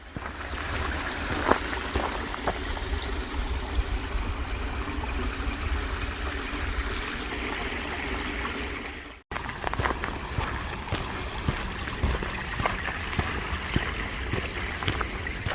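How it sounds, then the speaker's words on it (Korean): A clear mountain stream runs steadily down from the hills near a royal tomb, its constant rushing flow close and even, broken only by a brief dropout midway. "산에서 내려오는 시냇물이 참 맑고 물소리가 좋았습니다"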